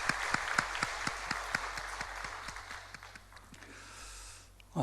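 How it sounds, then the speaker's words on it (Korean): A church congregation at a Sunday worship service applauding, a fairly faint, sparse clapping from a modest crowd in a reverberant hall, with a few distinct louder claps standing out early before it tapers off. "박수하겠습니다."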